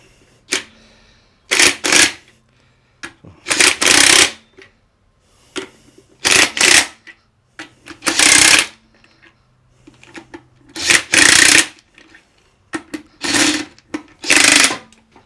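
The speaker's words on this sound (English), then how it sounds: "I've just put the wheel back on, and we're just going to tighten them down in a diagonal manner" Wheel nuts being tightened on the front right hub of a 2015 Ford Transit MK8 van, heard as about eight loud, close, harsh mechanical bursts of roughly a second each, separated by short quiet gaps, with no talking.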